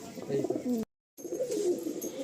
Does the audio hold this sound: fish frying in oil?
no